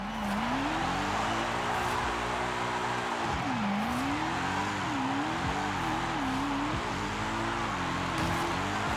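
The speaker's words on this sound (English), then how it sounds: "We'll hold the e-brake, give it some gas, boom, there we go." A car drifts in Forza Horizon 5 with its engine revving up and down in repeated swells while the tires squeal, loud and close, and no voices are heard.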